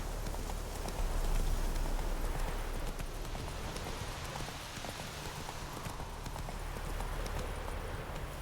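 Roach the horse gallops in The Witcher 3 video game, a steady, fast clip-clop of hooves running continuously and fairly close, with a dense rushing ambience underneath.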